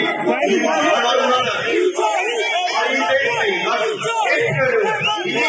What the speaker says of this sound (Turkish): Yuhalandı.